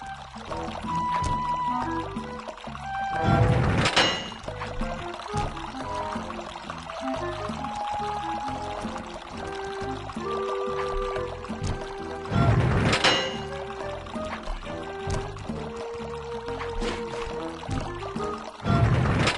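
Water flowing through a valve in the Sly 2 video game, two bursts of rushing, pouring water over a steady game music background.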